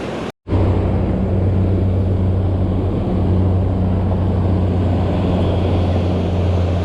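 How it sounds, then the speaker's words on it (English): A Coast Guard helicopter passes over a beach, heard as a steady low droning engine hum that holds level throughout, moderately near, with no voices. "Coast Guard helicopter going over."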